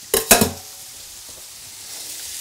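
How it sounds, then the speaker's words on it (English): Onions cooking in a pot are stirred at home, with two sharp scraping clatters of the utensil early on and then a faint, low sizzle underneath. "And Arne, could you maybe go and stir the pot with the onion a little bit, please?"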